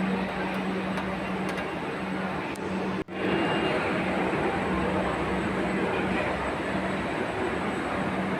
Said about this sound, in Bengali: ট্রেনটা চলে এসছে, গেটটা এখনো খোলেনি।